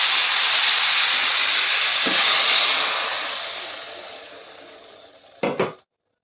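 Water poured into a hot pan of sautéed cauliflower hisses and steams loudly, a broad sizzle swelling then slowly fading, followed near the end by a couple of sharp clattering knocks of utensil on pan.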